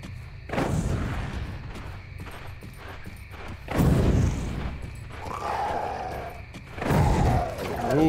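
Fireball spell explosions in the Grim Dawn video game, three heavy booms spaced a few seconds apart, each with a rumbling tail, over a quieter game ambience.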